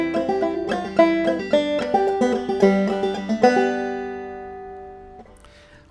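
A guitar plays a tab line with small added embellishments, a run of quick plucked notes over about five seconds that rings out and fades at the end, heard alone.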